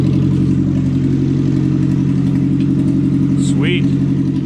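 A 1984 Chevette engine idles with an open header exhaust dumping right under the car, a cold start after four years sitting, giving a loud, steady, rumbling drone throughout with a brief high chirp near the end.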